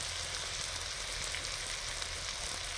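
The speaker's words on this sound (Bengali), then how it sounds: "বাঁধাকপির তরকারিতে আলু দিয়েছি, আলুটার মশলার সঙ্গেই ভেজে নিচ্ছি।" Potatoes fry in a pan with ginger and garlic paste masala for a cabbage curry, giving a steady, dense, close sizzle that runs unbroken without any voices.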